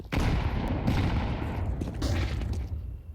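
Sustained gunfire from Counter-Strike 2 during a pro match between M80 and NAVI at BLAST Open London 2025, with dense overlapping shots and bursts filling the whole stretch at a loud, steady level, no talk over it.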